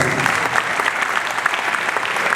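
Audience at a hypnotist show in Abidjan bursting into loud, dense applause, a thick continuous patter of many hands close by, filling the whole moment without a break.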